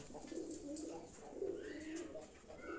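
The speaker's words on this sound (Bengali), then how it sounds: "ছাব্বিশ খানা পায়রা আছে আমার" Flock of pet pigeons cooing steadily at a rooftop loft, several birds overlapping in soft, continuous low coos with faint background noise.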